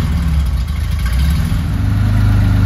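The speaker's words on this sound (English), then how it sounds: "Once it warms up, the idle is dead smooth." A 1974 Porsche 911 Carrera engine idles while cold, a loud, steady low rumble with a slight uneven lope, recorded close up and alone.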